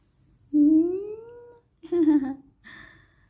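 A black cat meows up close: a long rising meow, then a shorter one and a faint third cry, each separated by brief pauses.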